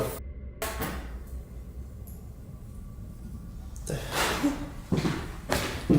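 A door is pushed open by an unseen force at a campsite in the rain, heard as a faint creak and soft thud. Startled voices break in afterward with sharp outbursts close by.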